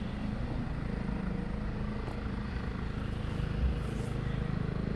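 A Chinook helicopter at RAF Shawbury lifts an underslung load, its heavy rotor thump and turbine roar steady and fairly distant, continuous throughout with no voices.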